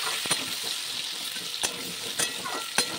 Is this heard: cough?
no